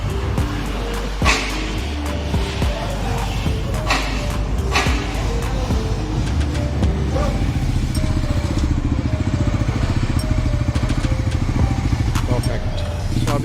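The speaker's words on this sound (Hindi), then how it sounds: "अभी हेड टेक्नीशियन टेस्ट राइड लेने गए बाइक की।" Bajaj Pulsar NS400z motorcycle engine running steadily on a test ride after its first service, a continuous low drone with shifting tonal lines, under talk throughout.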